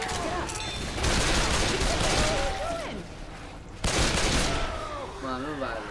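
Gunfire aimed at the Tank in Left 4 Dead 2, a dense, continuous fusillade of shots with a brief break near the middle, heard with shouting voices over it.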